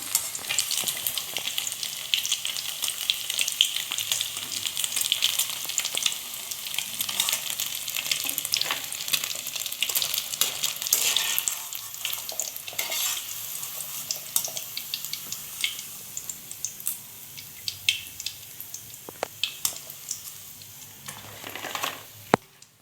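Egg Manchurian pieces frying in hot oil, a steady crackling sizzle with occasional stirring clinks that gradually quiets toward the end.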